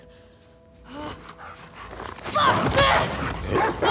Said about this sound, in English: Oh, crap. These damn dogs.